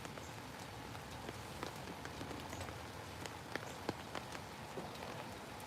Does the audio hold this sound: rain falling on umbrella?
yes